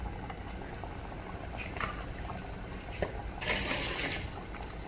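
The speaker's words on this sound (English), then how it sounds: "our last batch is frying up right now" Steady bubbling sizzle of crabcake-stuffed shrimp frying in hot oil, with a few louder pops and crackles near the end.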